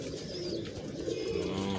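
Pigeons in a breeding loft coo steadily at close range, their low, throaty calls overlapping against a busy backdrop of other bird chatter.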